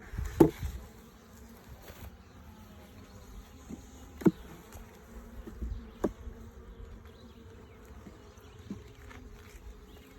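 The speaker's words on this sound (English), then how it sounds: "Once we get more towards the center of the hive, there'll be more bees in here." Italian honeybees buzz during a hive inspection, a faint, steady low hum with a few scattered sharp clicks and knocks of frames being handled, no talking.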